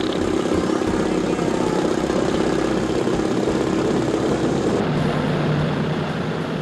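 A B-29 bomber's propeller engine starts up, a loud, steady drone of engine rumble and propeller noise filling the whole stretch with no talk.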